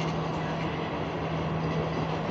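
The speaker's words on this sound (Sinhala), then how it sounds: "තවත් S10 වර්ගයේ දුම්රියක්" Sri Lankan S10 class passenger train rumbling past at steady volume, a continuous broadband roar with a sustained low hum, no voices.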